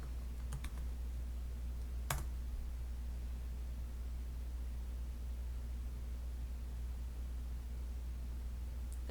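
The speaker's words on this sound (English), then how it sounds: "This time I'm going to type in Michael's" Quiet typing on a computer keyboard, a few faint scattered key clicks over a steady low hum and background hiss.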